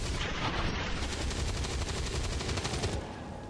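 Rapid gunfire in XCOM 2, a loud dense burst of fast repeated shots lasting about three seconds before easing off, no talking.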